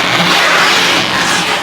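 A Toyota Tundra truck engine revs loudly up close, a sustained roaring rise and hold with no speech over it.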